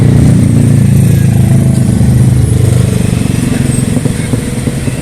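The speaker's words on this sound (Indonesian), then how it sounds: "banyak kendaraan. Kita pengen lewat tapi laju kendaraan kencang." Busy fast-moving road traffic in central Jakarta near Bundaran HI, loud and close, dominated by motorcycle engines droning and rumbling past in a continuous stream that eases slightly toward the end.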